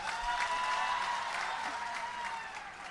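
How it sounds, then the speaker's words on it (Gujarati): A political rally crowd in Vadodara claps for Chaitarbhai, a dense burst of applause that stays loud and then slowly thins out over a few seconds. "એવા ચૈતરભાઈ માટે જોરદાર તાળી થઈ જાય"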